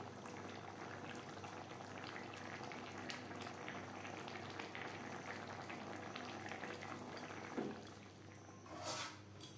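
Vegetarian potato curry (aloo chorchori, made without spices, garlic or onion) boiling hard in a pan on high flame, a steady dense bubbling hiss with a few louder pops and sputters toward the end.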